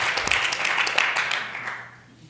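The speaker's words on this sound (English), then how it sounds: "we have to applaud for this one" An audience at a women-in-business event claps steadily for about two seconds, a moderate patter of many hands that fades out toward the end.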